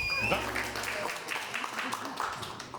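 Audience applause at a comedy roast battle show, a steady wash of clapping with cheering voices mixed in and a host's voice audible over it.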